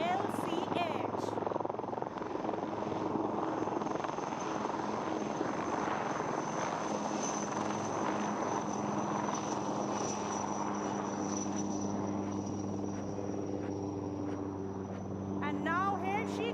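A light combat helicopter's rotor and engine drone steadily overhead during a flying display at Aero India 2021, loud and sustained, with a high whine running through it and a voice talking faintly underneath.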